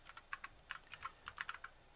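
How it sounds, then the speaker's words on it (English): Computer keyboard being used for a shortcut command, about a dozen quick, faint key clicks in irregular bursts, close and alone without speech. "I just use a keyboard command there to activate the move file to another folder, Control-Alt-M."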